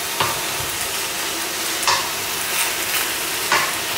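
Meat and vegetables for a Cantonese oxtail and lamb stew are stirred in a hot pan, a steady close sizzle broken by three scraping stirs, with no talking.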